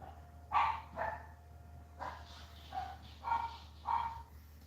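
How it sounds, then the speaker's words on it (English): A dog barks at the front door in bursts of loud, sharp woofs, six or so spread over a few seconds, heard indoors at moderate distance with a low hum underneath. "The dog's going mental at the front door for some reason."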